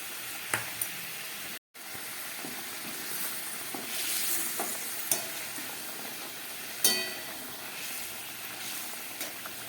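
Stuffed pointed gourds going into a pot of boiling curry gravy, a steady bubbling sizzle with soft stirring knocks and occasional clinks; one brief cut to silence early on.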